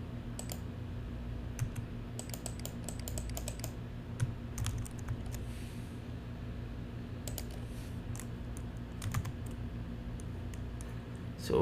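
Computer keyboard typing in bursts, with clusters of crisp close keystrokes separated by brief pauses against a constant low electrical hum, during a Cisco Identity Services Engine setup.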